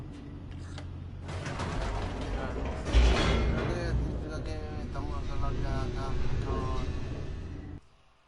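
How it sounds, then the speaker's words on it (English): Elevator descending in The Stanley Parable game, a steady mechanical rumble with creaks and rattling gear-like clicks, a louder thump near the middle, running continuously under the background music before cutting off abruptly at the end. "The elevator raced downward, plummeting towards an unknown fate."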